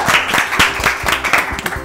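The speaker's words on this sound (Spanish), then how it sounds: "vamos a darle un muy fuerte aplauso para que ella pase" An audience claps to welcome a guest onto a stage, a short burst of close, steady applause with rapid overlapping claps.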